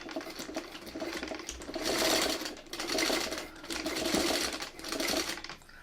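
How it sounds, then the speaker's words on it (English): A sewing machine stitches fabric for a quilt block in steady close runs, its rapid mechanical whirr swelling and easing across several bursts with short pauses between. "let's just get this under the machine and sew it"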